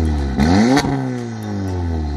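A Mk7 Volkswagen Golf R's exhaust with an APR downpipe and pops-and-bangs map revs sharply, rising to a loud roar with a crackling peak, then settles into a deep, rumbling idle.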